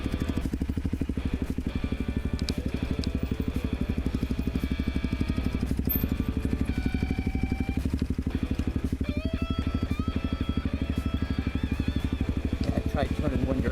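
Honda CRF250L motorcycles idle and chug steadily while riders shuffle them back and forth to turn on a rutted trail, the engine rumble continuous and close with faint clanks over it.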